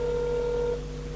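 Phone dialing tones from a handset placing a call, a steady pure electronic tone held for under a second before cutting off into a quieter hum, with no voices.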